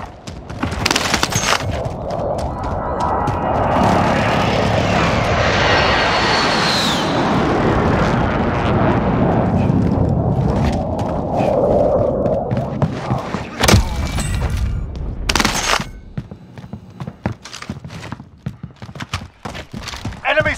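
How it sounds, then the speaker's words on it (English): Enemy precision airstrike in Call of Duty Warzone: a loud, sustained roar of incoming aircraft and bombardment builds over several seconds, followed by scattered heavy thuds and blasts amid gunfire-like bursts, with voices calling out over it. "Enemy precision airstrike"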